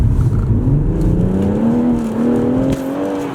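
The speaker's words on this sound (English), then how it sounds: "I'm gonna slam my foot down onto the ground and just listen to the delay of when I slam my foot down and when the car goes." A BMW M140i engine revs up under full throttle, its pitch climbing steadily as the car accelerates, loud and close with no talk over it.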